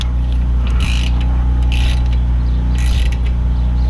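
A bolt is tightened with a ratchet during a front brake pad replacement on a 2009 Audi Q7, with three brief bursts of clicking over a loud, steady background hum.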